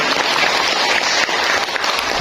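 Audience applause at a BKKBN East Java government family-planning event in October 2022, a dense, steady burst of many people clapping, fairly loud and brief, with no voices on top.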